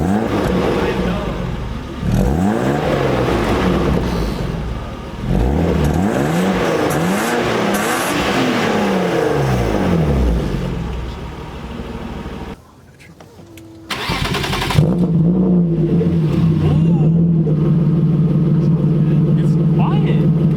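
A straight-piped BMW E36 325i cranks and fires up, then revs repeatedly in loud rising and falling sweeps before settling into a raspy, droning idle, with people talking throughout.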